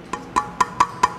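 Five sharp taps on a bisque-fired ceramic plate ring out in a steady rhythm, each giving a short, clear, bright tone, close and distinct.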